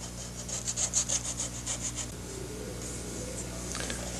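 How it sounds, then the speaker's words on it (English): Wet sanding a dried super glue seam on a jet aircraft model with 600 grit sandpaper: a quick run of soft, rhythmic rasping strokes up close, fading to a quiet background hiss. "my super glue is dry, so I'm going to come in with 600 grit, wet,"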